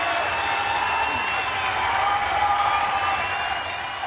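Crowd at a strongman Super Series Grand Prix in Gothenburg cheering and applauding, a steady dense roar of clapping and shouting that holds at full level for several seconds.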